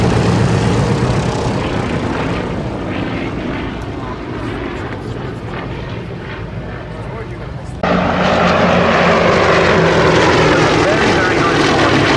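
Propeller aircraft flying in formation over IWM Duxford airfield, a steady, continuous engine drone that stays loud throughout and jumps louder near the end, with a commentator talking over it.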